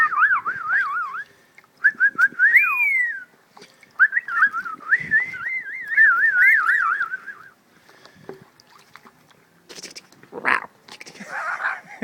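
A pet bird bathing whistles in bright, warbling, up-and-down phrases, loud and close, then breaks off into splashy flutters and short bursts of noise.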